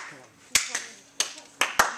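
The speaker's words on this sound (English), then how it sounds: "Every time there's a Physics Master, everybody gets applause." A few students in a physics classroom clap sparsely, giving a handful of sharp, separate claps spread over two seconds against a quiet room.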